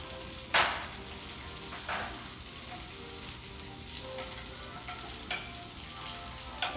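Buttery mushrooms fry in a pan with a soft, steady sizzle, broken by a few sharp clinks and scrapes of stirring.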